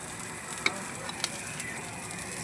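Corned beef sautéing in a pan with onion and garlic, a soft steady sizzle with a few faint clicks of a utensil, quiet and close.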